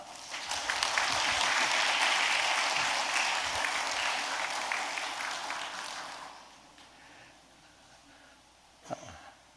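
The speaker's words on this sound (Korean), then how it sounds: "여러분들 광림의 따뜻한 박수로 우리 목사님 환영하도록" A church congregation applauds warmly to welcome a visiting pastor at a service, a full wash of clapping that swells, holds for several seconds and fades out, leaving a quiet room with a faint bump near the end.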